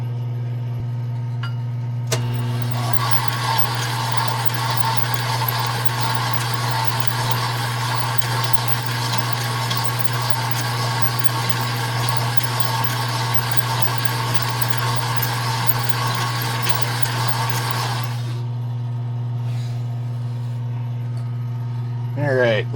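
A cylinder hone spins inside a race snowmobile cylinder being reconditioned after a meltdown, a steady droning whir with a low hum running continuously for about fifteen seconds before it stops, with faint clicks afterward.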